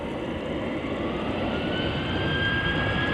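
A KLM jet departing Amsterdam Schiphol roars steadily at close range, a loud, unbroken broadband engine rush with a faint rising whine, no voices.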